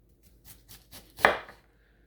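A knife chops onion on a board for Chinese sticky rice. A few soft, evenly spaced cuts are followed by one sharp, loud chop, close by and with no talking.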